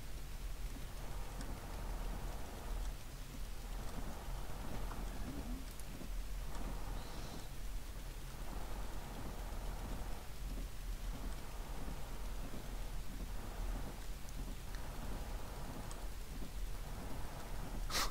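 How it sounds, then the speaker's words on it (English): Steady rain hisses throughout while low rumbles of thunder roll in and out repeatedly in the video game Jalopy, with no voices present. "Traction during the rain is not great."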